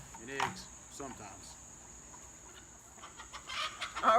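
Free-range chickens cluck in short, soft bursts close by, with a steady high insect buzz behind them and a few quieter fowl calls toward the end.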